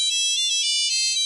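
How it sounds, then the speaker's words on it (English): A telephone ringtone plays alone, a steady bright electronic ringing tone pattern held throughout with no talking over it. "well, there goes the feedback phone."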